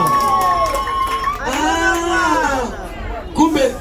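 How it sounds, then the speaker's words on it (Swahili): A church congregation clapping and ululating during a Swahili sermon: high, wavering trilled cries rise over a lively crowd of cheering voices and clapping, loud and close, fading briefly before a final burst. "Makofi na vigelegele."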